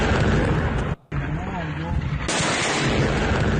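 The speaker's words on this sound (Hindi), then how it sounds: "ये देखिए कितना भीषण अटैक था, ये कितना जोरदार धमाका होता है" News footage of an Israeli strike at Bushehr, Iran, carries loud, harsh blasts and crackling booms in heavy broadband bursts, with a brief drop to near silence, then a renewed roar. Voices may be mixed in under the noise.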